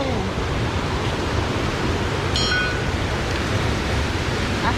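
A waterfall near Chiang Mai, Thailand, gives off a steady, even broadband rush of falling water that fills the whole clip at constant loudness, with a brief high bird chirp partway through.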